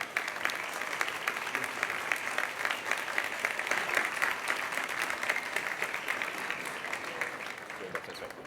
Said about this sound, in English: So please join me in our big round of applause welcoming Satya Nadella on stage.